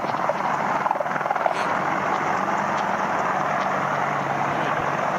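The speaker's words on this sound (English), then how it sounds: "they're using Apache helicopters" Apache military helicopters working to clear an airport runway, a steady close rotor roar and turbine whine filling the whole clip with no break, and no voices.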